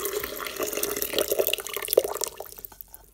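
A liquid with sea moss is poured into a Vitamix blender, a continuous splashing, gurgling pour that runs steadily and then tapers off and thins out toward the end, with no talking.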